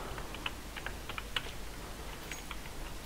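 Quick, light clicks of a computer keyboard during a Counter-Strike: Global Offensive session, irregular keystrokes tapping close by over a steady background hiss with no speech.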